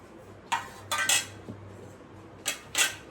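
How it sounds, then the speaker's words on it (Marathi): Mashed potato mixture is tipped into a wide plate, with sharp metallic clinks and scrapes of a utensil against the dish. They come in clustered bursts, some doubled, close and clear over a quiet background with no talking. "आता परातीमध्ये मी आधी हे बटाट्याचं आहे ना हे टाकून घेते सगळं."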